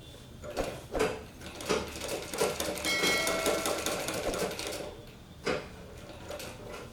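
Domestic sewing machine stitching the front piece of a blouse, a steady close mechanical whirr with rapid needle ticking, in short runs broken by brief pauses.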